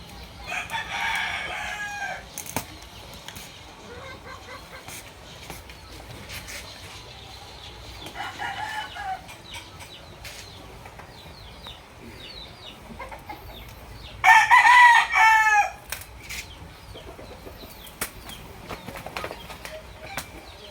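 A rooster crows loudly and close at hand, with hens clucking around it and a few wing flaps, in an otherwise quiet yard.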